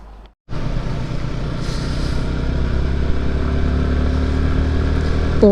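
A motorcycle rides along a highway, a loud, continuous engine drone with wind rush that builds slightly after a short gap at the start.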